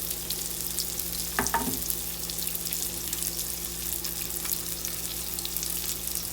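Sauce simmering on low heat in a pan while salmon fries, a soft, steady sizzling hiss with a couple of brief clinks near the start and no voices.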